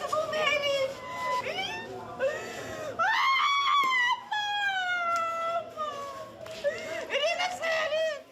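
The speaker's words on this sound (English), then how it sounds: "Wake up, she's screaming." A grieving woman screams and wails in a hospital after a strike in Ukraine, her voice rising and breaking in long, loud, anguished cries with brief pauses between them.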